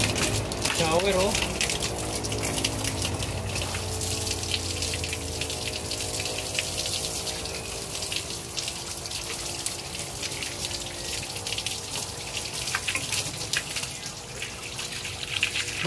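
Shower water runs steadily with a broad hiss and gush, under a man's speech for most of the stretch.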